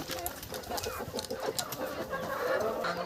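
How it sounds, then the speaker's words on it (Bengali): Desi chickens and roosters in a village coop clucking and calling, several birds at once amid rustling and busy background noise. "তো এখানে অনেকগুলো দেশি মোরগ আছে, তার মধ্যে থেকে একটা ভালো দেখে একটা মোরগ ধরে নেব।"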